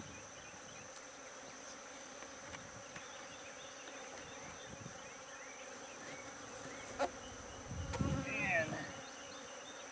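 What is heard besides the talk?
honey bees buzzing during a beehive inspection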